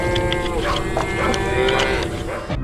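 A cow lows loudly in a barn at night, one long sustained moo lasting almost the whole stretch over a dense, steady background before stopping abruptly.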